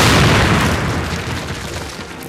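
A loud explosive blast as charges detonate against a cinder block wall in Call of Duty, a sudden booming burst that rumbles and slowly decays over a couple of seconds.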